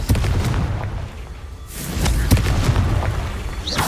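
A Confringo fire spell bursts in Hogwarts Legacy, with loud rumbling booms and a heavy low explosive roar that dips briefly, then swells again with sharp cracks, close and without talk.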